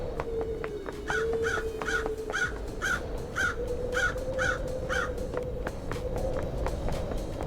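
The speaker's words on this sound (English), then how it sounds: "And the crow cawing?" A crow in the video game Paradise Killer caws repeatedly in an even rhythm, about twice a second, over a low ambient hum and faint footstep-like clicks.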